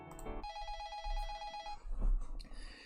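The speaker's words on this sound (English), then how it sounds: "I heard the phone ring as I left the bath." A telephone rings in the SeaBed game, a loud electronic trill that runs briefly and then stops, leaving quieter low rumbling sounds and faint clicks.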